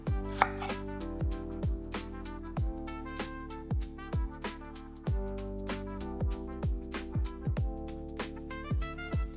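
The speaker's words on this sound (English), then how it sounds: "slice half a sweet onion" A knife slices through half a sweet onion on a cutting board, with a steady run of crisp, close, evenly spaced cutting taps and no talking.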